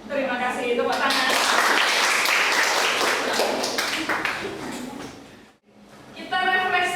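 An audience in a classroom or training session breaks into steady applause that fills several seconds, fades briefly, then resumes, with voices mixed in.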